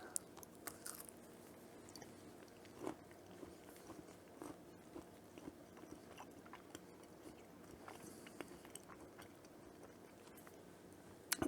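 Up-close crunching and chewing of homemade caramel turtle candies made with chocolate, caramel and pecans, with quiet irregular bites and mouth sounds and no talking.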